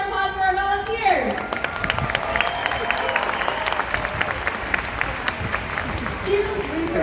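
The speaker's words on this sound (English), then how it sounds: "How about another round of applause for our volunteers?" Crowd applause for volunteers at the SeaWorld Orlando Orca Encounter killer whale show, a loud, busy stadium clapping that rises after a brief voice and continues throughout.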